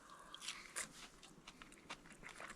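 Close, crisp crunching bites of fried trout skin, several irregular crackly chews in quick succession with no talking.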